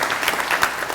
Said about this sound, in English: So please give them a round of applause this afternoon.